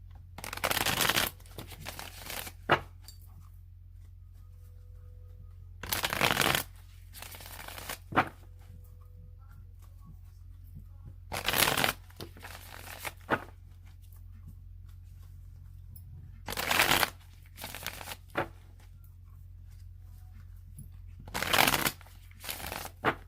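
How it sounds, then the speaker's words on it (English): Tarot cards are shuffled in five separate rapid riffling bursts, each lasting a second or two, with near-silent pauses between them. Close and fairly soft. "I'm going to shuffle it 3 more times"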